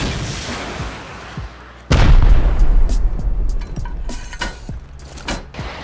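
C4 charges and a rocket detonating against an armored base during a raid in the game Rust: one sudden, heavy, close boom with a rumbling tail, followed by scattered debris clatter and smaller pops.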